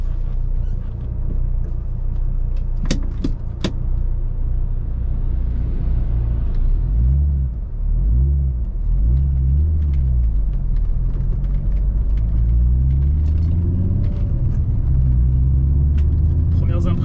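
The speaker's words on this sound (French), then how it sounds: "On a déjà le petit feulement du 5 cylindres bien sympathique." A Fiat Coupé 20v Turbo five-cylinder engine drives along, its low rumble holding steady with rising and falling harmonic sweeps as gears change and revs climb, loud and close inside the cabin.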